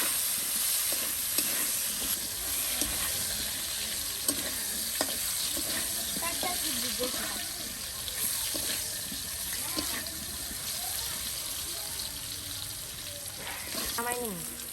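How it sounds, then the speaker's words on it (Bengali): Green plantain slices fry in oil in a pan, a steady sizzle with occasional stirring and clinking, alongside some running water in a village kitchen setting. "ভাজা হয়ে গেছে এই যে কাঁচকলা কিন্তু সুন্দর করে ভেজে নেওয়া হলো"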